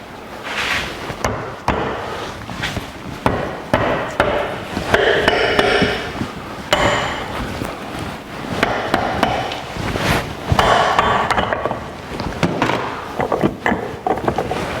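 Metal shaft being driven out of a 1982 Jeep CJ7 Dana 300 transfer case during teardown, a dense run of sharp, close striking knocks and clanks with irregular rhythm, loud and continuous across the whole stretch.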